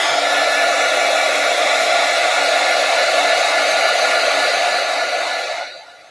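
A hair dryer blows steadily over mail art pages, a loud, close, even whir held for several seconds before it switches off and winds down.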